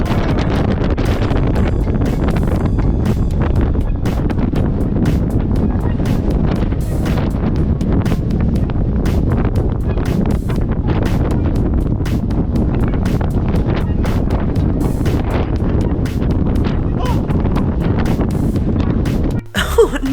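Strong wind roars steadily and close into the microphone on an exposed coastal clifftop along the Three Capes Track in Tasmania, a dense buffeting rumble that barely lets up from start to finish.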